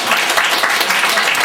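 An audience applauding at a lecture on the Donghak Peasant Revolution, a loud, dense, continuous clapping from a full room throughout.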